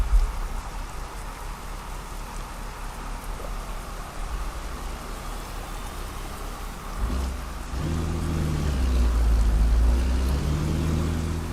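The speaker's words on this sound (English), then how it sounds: "Yeah, it's raining, I can hear it." Steady hiss of rain in American Truck Simulator fills the whole stretch, with a low rumbling swell rising partway through and continuing loudly to the end.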